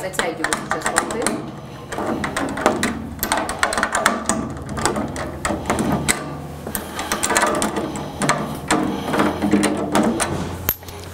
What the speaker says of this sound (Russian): I'm not tuning. I'm just tightening.